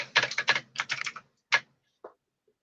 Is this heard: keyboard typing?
yes